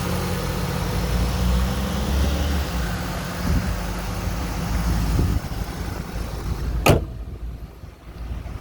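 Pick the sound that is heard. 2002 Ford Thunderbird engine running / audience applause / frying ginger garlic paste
2002 Ford Thunderbird engine running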